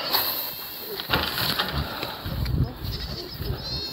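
Goats bleating in an outdoor pasture on a farm, several animals calling near and far over steady wind or breeze noise, with a few louder cries standing out.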